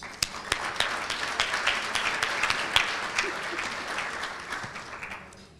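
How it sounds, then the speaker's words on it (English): An audience at a chamber of commerce luncheon applauds with dense, steady clapping that swells and then slowly fades out. "let's all give Gina a round of applause."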